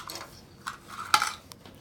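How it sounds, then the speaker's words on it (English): A sharp plastic click of a white synthesizer key snapping into place on an E-mu Proteus MPS stands out clearly over faint handling noises, one crisp snap near the middle of an otherwise quiet moment. "On the white key, you hear the click. It clicks into place"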